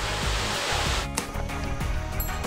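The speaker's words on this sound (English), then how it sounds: "He took us to one more waterfall. This one's ever so unusual." Unusual jungle waterfall in Mondulkiri, a steady loud roar of rushing water that fills the whole clip, with brief splashing spikes partway through.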